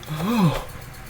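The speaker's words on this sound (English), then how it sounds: "I'm yawning." A single drawn-out yawn, rising then falling in pitch, close and fairly quiet over faint background noise.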